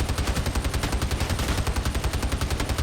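The Atlas Mark 7 shotgun fires in rapid, continuous succession in Warhammer 40000 Darktide, a dense, even barrage of heavy booming blasts with no pause and no voices.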